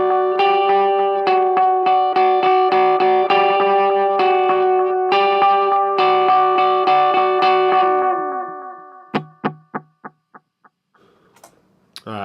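Electric guitar played through a modded Line 6 M5 effects pedal: sustained chords with a shimmering, repeating modulated texture for about eight seconds, then a string of short plucked notes and staccato hits as the effect fades.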